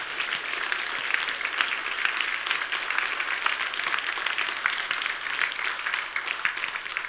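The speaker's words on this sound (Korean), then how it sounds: "다 같이 박수로 한번" A church congregation clapping together in thanks during a Sunday service, a steady, moderately quiet wash of applause with no voices over it.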